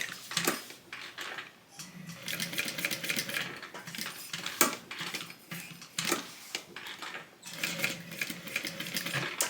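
A sewing machine stitches the interfaced, structured lining of a modified TriBeca tote bag, running in steady bursts with brief pauses between runs, fairly close and alone.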